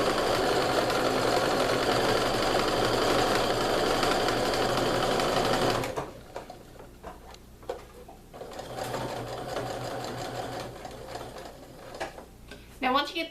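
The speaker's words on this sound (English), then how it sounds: "you just want to sew down those raw edges with a 1/4 inch seam" A sewing machine sews down the raw edges of a fabric pillowcase tube, running in a steady loud whir for about six seconds, then stopping as quieter handling noises and a voice follow.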